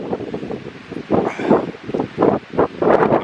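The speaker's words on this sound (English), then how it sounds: "It's a terribly windy and showery Good Friday." Gusts of wind buffet a microphone outdoors on a showery, blustery Good Friday near a holiday park junction, coming in repeated low rumbling bursts that swell and fade every half second or so.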